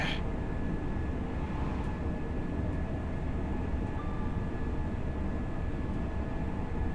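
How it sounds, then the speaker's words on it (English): A train slowing down in the Train Sim World 4 video game on the Grantham to Doncaster route, a steady low rumble with a faint constant tone, even and unchanging throughout, no talking. "Just letting the train gradually slow down."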